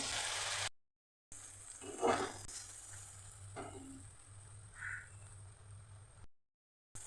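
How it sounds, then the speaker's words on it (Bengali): Spice paste fries with a little water in a pan, a soft continuous sizzle broken by brief scraping stirs, faint and close, with short silent gaps and no speech. "সব মিশিয়ে দিলাম সামান্য একটু জল মশলা কষাবার জন্যে"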